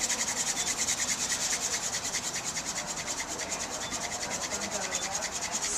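Wood rubs steadily against wood to make a friction fire, a continuous rhythmic rasping and grinding with even strokes, close and loud, with no talk.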